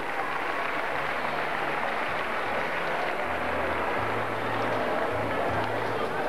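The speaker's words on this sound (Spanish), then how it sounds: "Le levantamos el aplauso a todos, por favor." Audience applause at a Argentine folk gathering (peña), a steady broad wash of clapping that runs throughout, with faint low murmurs beneath.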